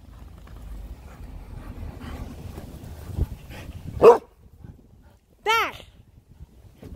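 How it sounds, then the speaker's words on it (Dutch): A dog gives one sharp bark and then a rising, yelping whine during a ball-throwing game outdoors, standing out clearly over quiet rustling background noise. "Nee, niet blaffen."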